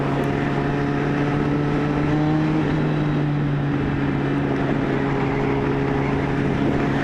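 Steady low engine drone with a constant humming tone, motorcycles riding at a Wednesday evening bike night in Houston, Texas, continuous and fairly close with no talking.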